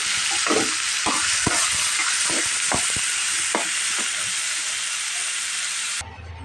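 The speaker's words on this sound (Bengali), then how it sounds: "শাকটা ভাজি আমার হয়ে গেছে" Data shak greens with onion sizzle loudly in hot oil while a spatula stirs in quick, uneven strokes, a dense close hiss that stops abruptly near the end.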